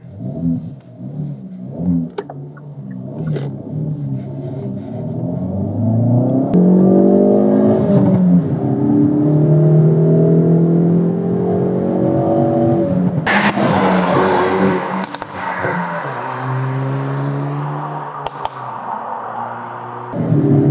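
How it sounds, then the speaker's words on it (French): Hyundai i30 N Fastback with 275 hp, driven on a road test in N mode: a loud, close engine revs and pulls through the gears, with a sharp burst of exhaust pops and crackles partway through. "un bruit qui est plutôt plaisant, on entend vraiment les retours à l'échappement"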